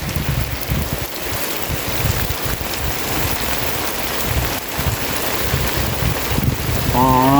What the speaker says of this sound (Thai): ฝนมันตกเนี่ย